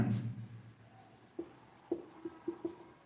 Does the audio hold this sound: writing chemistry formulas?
yes